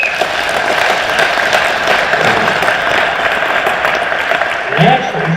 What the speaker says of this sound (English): I wish you'd give them all a round of applause.